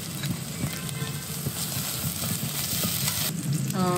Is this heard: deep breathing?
no